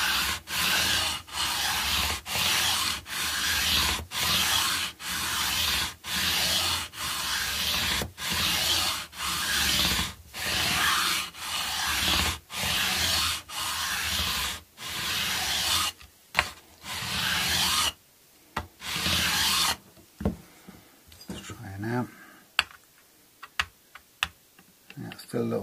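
Steady rhythmic rasping strokes of a file levelling a fret on a Telecaster guitar, evenly spaced back-and-forth passes, close and loud, giving way to a few lighter scattered scrapes and taps near the end.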